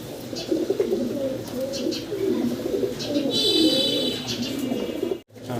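Steady soft cooing of fancy Black King pigeons, several birds calling in overlapping low throaty phrases close by, with faint chirps and background noise throughout.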